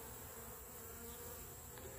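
Honeybees buzz steadily around a caged queen, a dense, continuous insect hum close by with no talking.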